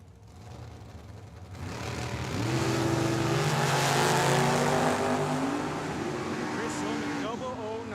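A Chevy S10 pickup and a Datsun launch off the line at a drag strip, engines rising from a low idle into a loud, sustained roar, with a track announcer's voice running over the engines.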